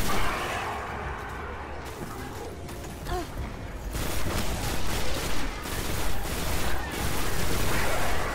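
Heavy, rapid gunfire with strong recoil from a weapon in the video game Destiny, dense bursts of shots over a constant mix of game effects, sounding close and loud throughout.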